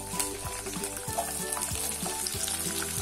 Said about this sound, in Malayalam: നമുക്ക് നന്നായിട്ടൊന്ന് ഇളക്കി കൊടുക്കാം ഇപ്പൊ ചെറിയ ഉള്ളിയും ചെറുതായിട്ടൊന്ന് മൂത്ത് വന്നിട്ടുണ്ട്